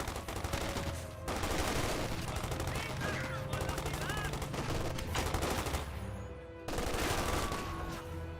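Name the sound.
gunfire on an assault section in the video game Company of Heroes 2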